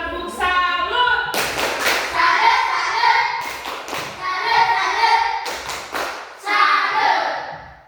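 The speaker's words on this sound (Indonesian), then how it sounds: "Tepuk salut." A classroom of children performs a rhythmic group clapping pattern, bursts of claps and thumps alternating with short chanted voices, close and fairly loud.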